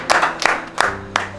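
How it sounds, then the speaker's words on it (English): Four slow, separate hand claps ring out close by with a steady rhythm, each one sharp and distinct against a quiet indoor background. "I got a clap."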